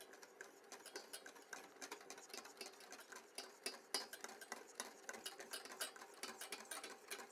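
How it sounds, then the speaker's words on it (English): A spoon or whisk stirs creme patisserie as it thickens in a pan, giving a fast, steady, quiet run of scraping ticks near the microphone, with no talking. "the reason you keep stirring is so the pan don't burn"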